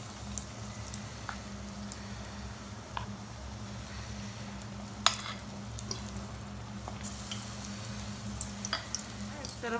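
Aloo bonda dipped in besan batter fry in hot oil with a soft, steady sizzle, broken by scattered light clinks of a spoon against the pan.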